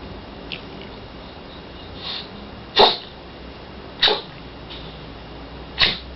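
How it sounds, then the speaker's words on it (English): Sharp sneezes burst out several times at uneven intervals, the louder ones close by and a couple of fainter ones in between, over a quiet room background with no talking. "You never used to sneeze, hardly ever."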